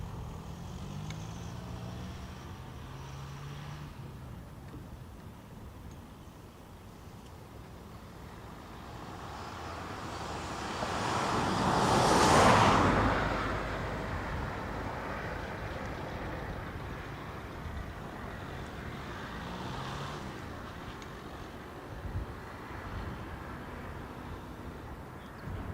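A Delta airliner on its departure run from Dublin Airport bound for Tampa, a broad engine roar that swells from a distant rumble to a loud peak as it passes, then fades away again.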